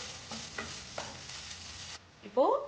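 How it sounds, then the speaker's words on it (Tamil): Rice sautéed in ghee for aravana payasam gives a steady soft sizzle with intermittent stirring scrapes, near and moderately quiet, ending in a louder clatter. "இப்போ இதை நெய்யில் நல்லா நம்ம வதக்கிக்கலாம்"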